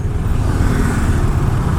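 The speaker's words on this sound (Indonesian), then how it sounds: "Kita kena macet teman-teman ya di Jalan Raya Canggu." Steady rumble of idling and creeping vehicles, cars and motorbikes, in a traffic jam on Jalan Raya Canggu in Bali, a dense continuous low drone with no talk.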